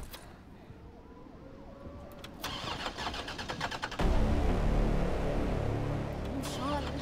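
A car engine in Resident Evil 3 Remake cranks with a rising, sputtering starter whirr, then catches and roars into a loud steady idle, over game background sounds and a faint siren-like tone.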